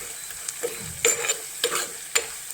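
Chili powder sautéing in Kottayam-style fish curry masala in a pan, a steady soft sizzle broken by several short stirring scrapes at a regular pace, close by with no talking.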